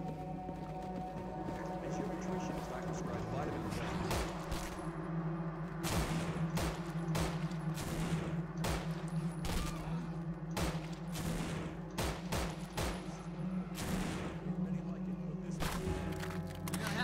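Gunfire in the video game No More Room in Hell, sharp shots fired one after another at a steady pace over a constant low game drone, with voices talking quietly now and then.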